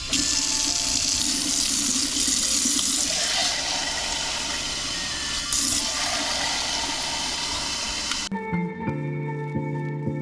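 Warm water pours steadily from a tap into a sink for several seconds, loud and close, then stops abruptly with a faint hum left behind, all while tomato seeds are being prepared for germination.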